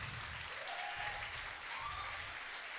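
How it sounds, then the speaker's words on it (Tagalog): A church congregation applauds, a continuous patter of many hands clapping at moderate distance, steady and fairly faint throughout. "Parang yung palakpak na yan,"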